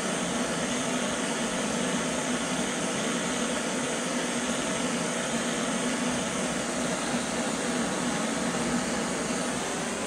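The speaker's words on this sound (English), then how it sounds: "And I don't have the torch on full blast either." A gas torch flame heating a part on a small block Chevy engine, making a steady, broadband roaring hiss that holds constant and unbroken from start to finish.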